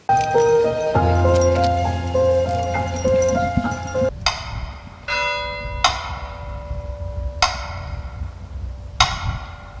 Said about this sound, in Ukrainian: Розвішені на деревах дзвіночки та церковний дзвін як данина пам'яті українським дітям